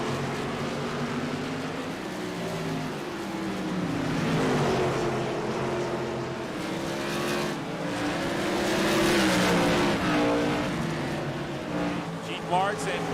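Short track race cars at Southern National Motorsports Park roar steadily around the oval, engines droning and rising as they pass, with an announcer talking over the noise.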